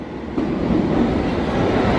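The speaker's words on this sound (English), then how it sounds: "So we're just waiting on our train. There it is." A train pulls into a London-area station platform with a steady, loud low rumble and rolling wheel noise that swells slightly as it nears, with no speech.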